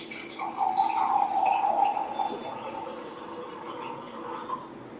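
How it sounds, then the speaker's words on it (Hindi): Water from a portable alkaline water jar is poured into a jar containing oil, a close, steady trickling pour lasting several seconds that gradually softens toward the end. "अब यही तीनों में हम हमारा अल्कलाइन एक्वावेदा जो पोर्टेबल जार है उसका पानी ऐड करते हैं"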